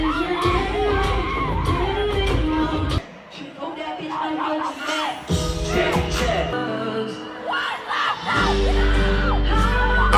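A concert crowd screams and yells loudly throughout, a dense roar of high-pitched shrieks with brief dips, with some voices and music mixed in.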